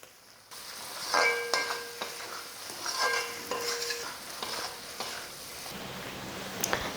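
Prawn gravy being sautéed in a pan on a stove turned low, with a spoon scraping and stirring in uneven strokes over a soft, faint sizzle, close by and with no talking.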